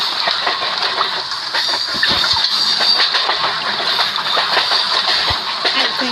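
Steady rumble and broadband rush of an Indian passenger train running on the tracks, heard from inside the carriage, continuous and fairly loud with faint rattles and clicks throughout.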